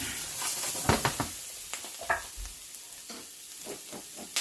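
Garlic stirred in a frying pan on low heat, a soft steady sizzle with a utensil scraping and tapping the pan several times, close and fairly quiet, no talking.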